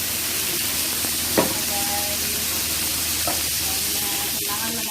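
Chicken barbecue frying in a pan gives a steady, even sizzle and hiss, with a couple of faint clinks and light stirring sounds on top.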